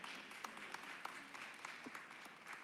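Faint, steady applause from an audience at a community block club discussion, a soft continuous patter of clapping heard from a distance for a few seconds.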